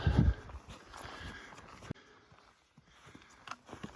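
Cows move along a rocky mountain trail in the Rockies, their hooves clopping and shuffling nearby in an irregular walking rhythm, fairly faint against the open outdoor quiet.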